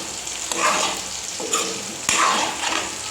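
Fish frying in a pan in a home kitchen, a loud, steady sizzle that swells in bursts as the pieces are stirred or turned, with no talking.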